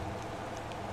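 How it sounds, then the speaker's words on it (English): Steady rain falls in Motor Town: Behind the Wheel, a dense continuous hiss of drops with no talking, brief and even throughout. "It's raining."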